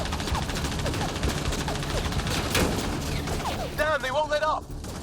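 Sustained gunfire in a Mass Effect Andromeda battle, dense overlapping shots and bursts crackling steadily at close range with no letup, speech-like game chatter and a brief warbling electronic tone toward the end.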